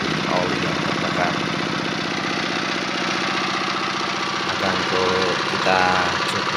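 A Dongfeng engine runs steadily while being tested for oil burning, with a continuous loud mechanical drone and rattling knock, close up, with some rising revs.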